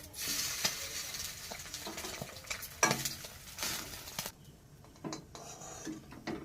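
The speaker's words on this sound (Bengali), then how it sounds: "ডিম দিয়ে ভেজেছি।" An egg fries in a pan with a steady close sizzle, broken by occasional scraping and stirring knocks, and the frying noise drops away near the end.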